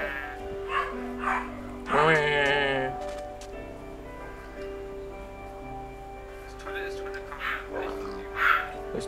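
Dogs in the Minecraft video game bark in a few short, mid-loud bursts over steady game background tones, with a voice talking at times.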